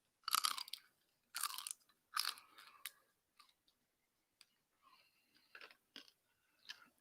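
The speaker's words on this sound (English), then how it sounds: "Maybe y'all can hear the crunch." Crunchy fried snack food chewed close up in several loud, crisp bursts of biting and munching separated by short pauses, with quieter crunches toward the end and no talking.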